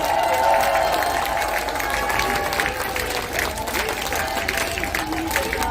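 Crowd applause and some cheering at a street election campaign rally in a traditional market in Geumjeong-gu, Busan, sustained clapping with scattered voices and an amplified voice at the start.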